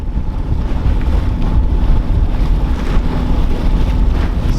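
A Dana 24 sailboat motor sails with its general and main up, a steady low engine drone running beneath constant wind buffeting and the wash of water along the hull.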